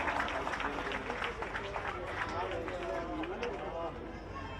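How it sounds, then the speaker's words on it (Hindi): Audience applause at a government ceremony in Khunti district attended by the chief minister, sustained clapping from a large outdoor crowd heard beneath someone speaking Hindi over a loudspeaker. "तालियों के साथ इनका अभिनंदन कीजिए।"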